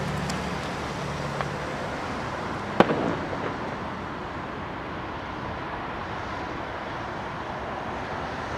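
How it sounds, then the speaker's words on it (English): Fireworks go off near London Heathrow Airport, one sharp crack standing out from a constant wash of distant traffic and jet roar, with a few fainter pops earlier. "The old fireworks down there."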